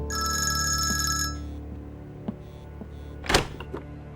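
A telephone rings with a bright repeating electronic bell for about a second, then fades to quiet room tone before a brief clatter near the end.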